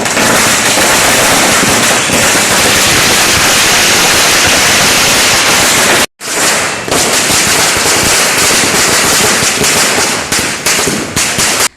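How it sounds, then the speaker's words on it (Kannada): Firecrackers burst at a Congress victory celebration in Puttur, a loud, dense, continuous crackling barrage that runs almost unbroken, pausing for a split second midway before resuming just as fiercely. "ವಿಜಯೋತ್ಸವದ ಕೊನೆಯಲ್ಲಿ ಪಟಾಕಿ ಸಿಡಿಸಿ ಸಂಭ್ರಮಿಸಲಾಯಿತು."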